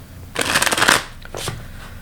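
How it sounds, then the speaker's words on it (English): Tarot deck of cards is shuffled close up in one brisk, loud riffle burst, followed by a softer second riffle. "Let's begin shuffling and see what we can find out."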